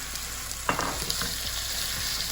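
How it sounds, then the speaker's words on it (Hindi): Half a kilo of beef mince fries in a pan for Arabian mutabbaq, a steady close sizzle with a sharp stirring scrape partway through and no talk. "इसको मैं ऐसे ही थोड़ा सा बस इसको पकाऊंगी और थोड़ा भून लूँगी"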